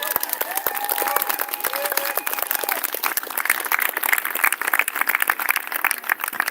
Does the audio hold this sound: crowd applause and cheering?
yes